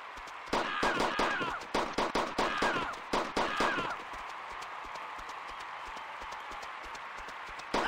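Gunshots in the mobile game The Dictator: Wadiyan Games, a rapid series of sharp, loud reports in uneven bursts over about three seconds, then dropping to a low game background hum.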